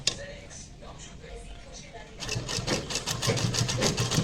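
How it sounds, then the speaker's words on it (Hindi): A sewing machine stitching a baby frock starts up partway through, a close, rapid mechanical whir following a spell of quieter handling noise; someone speaks over the start. "और यहाँ पर भी हम सिलाई लगाएंगे।"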